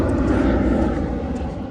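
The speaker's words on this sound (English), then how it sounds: "Sorry for the airplane noise." A loud, steady low roar of an aircraft passing overhead above a shimmering beach near a military training base, filling the whole moment with a continuous broadband rumble and no voices.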